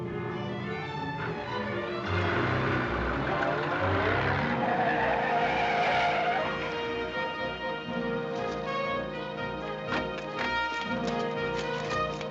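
An armored car pulls away with a long tire screech and revving engine, loud and near, then fades into a tonal hum with scattered clanks, in an old adventure serial.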